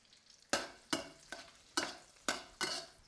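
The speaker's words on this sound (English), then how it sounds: "You fry the mushroom. Want to give it a press. You want to hear it cry." Mushrooms sizzle in a hot pan with six rhythmic bursts of stirring or pressing, each flaring up then settling; fairly quiet and close.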